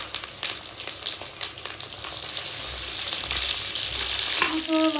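Spice pastes of raw cumin and green chilli with turmeric and salt sizzling and frying in a pan for a thin magur fish curry, a steady close crackle with stirring scrapes, swelling louder toward the end.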